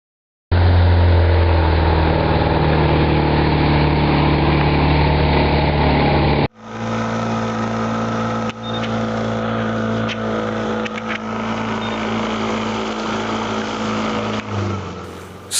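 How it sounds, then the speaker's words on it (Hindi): A speedboat engine on Dal Lake runs loud and steady with a low droning hum, then shifts to a different idling tone partway through as the boat carries on across the water. "हमको ये स्पीड बोट के द्वारा उस हाउस बोट में ट्रांसफ़र कर रहे हैं"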